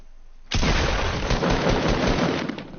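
Sustained burst of gunfire in Fortnite starts abruptly and rattles on loud and dense for over two seconds, one continuous automatic volley with no talking.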